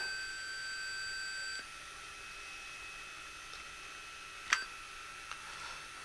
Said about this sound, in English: Number 5, just makes a beep.